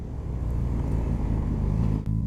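A Suzuki GSX-S1000GX sport-touring motorcycle rumbles steadily under load, with a brief dip near the end as the quick shifter snaps through a downshift.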